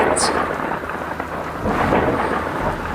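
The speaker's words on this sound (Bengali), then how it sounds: "ঘন অন্ধকার রাত, মুষলধারে বৃষ্টি হচ্ছে।" Heavy rain pours steadily with a deep rumble of thunder rolling beneath it, a loud, dense stormy wash used as a sound effect in a Bengali ghost cartoon.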